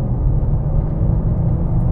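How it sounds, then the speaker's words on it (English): BMW S58 straight-six engine cruising in efficient mode, a steady low rumble with faint valvetrain and injector ticking, heard continuously and alone. "It's just really sort of characteristic straight six sound."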